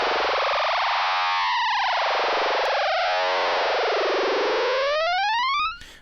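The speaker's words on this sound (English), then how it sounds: "now I can use my modulation wheel to fade between those two LFOs" A SynthMaster software synthesizer patch swept by a modulation wheel that crossfades between two LFOs, giving a loud, continuous distorted tone that wobbles up and down in slow arcs, then rises steadily and cuts off abruptly near the end.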